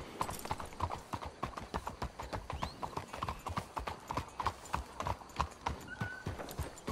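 Horse hooves clip-clop in a steady walking rhythm throughout, close and distinct, with a brief whinny partway through, inside Red Dead Redemption 2.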